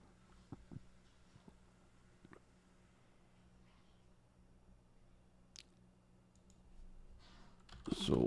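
Light keystrokes on a computer keyboard as a request is typed to a local AI model: sparse, faint clicks in a quiet room, ending with a louder burst of noise.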